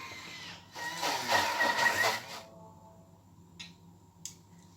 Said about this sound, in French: vous allez mixer pendant 1 minute sur la vitesse 10